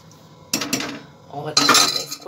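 A spoon clinks and scrapes against a pot while stirring dal with masala, in two short bursts of metallic clatter close by.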